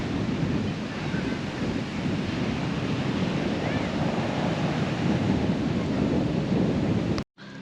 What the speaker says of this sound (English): So this is Murray Beach, blowing an absolute gale.